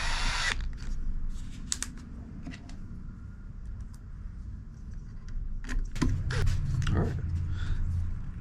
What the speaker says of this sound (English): let's go ahead and put all the Phillips head screws back where they go